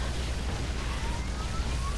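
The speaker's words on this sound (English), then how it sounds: "A little Yamato cannon action happening." Heavy battle noise in StarCraft 2 as a Yamato cannon fires: a dense, steady roar of broadband rumble and blasts with faint rising whine tones threading through, loud and continuous throughout.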